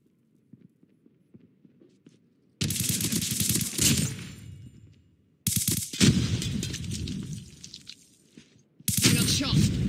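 Automatic gunfire in a Call of Duty: Mobile Hardpoint match rips out in three loud sustained bursts separated by brief quiet gaps, close and harsh, with faint game ambience between.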